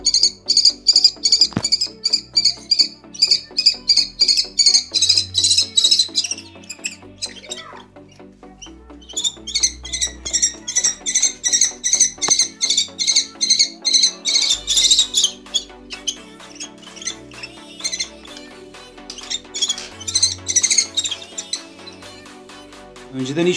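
A kestrel chick gives rapid, shrill, repeated chittering calls in long bursts separated by short pauses, loud and close by.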